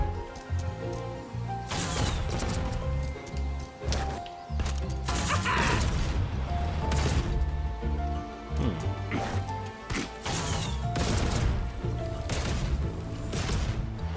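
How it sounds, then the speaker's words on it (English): Terrafin's Ballistic Frenzy rockets firing in the video game Skylanders SuperChargers, repeated sharp blasts and crashing impacts in quick irregular bursts over game music and effects, loud and dense throughout. "Ballistic Frenzy rockets now hit enemies twice."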